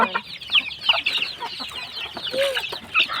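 Pet chickens cluck and chatter close by in busy, overlapping bursts, with a few higher squawks mixed in.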